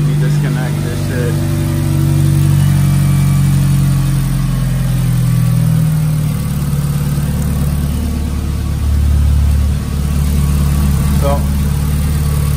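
A car engine idles with a steady low rumble, close and loud, holding an even pitch with a slight rise near the middle.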